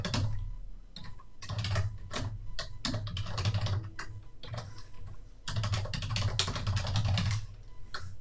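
Someone types code on a computer keyboard in close, rapid, uneven bursts of key clicks with short pauses between runs. Nobody speaks.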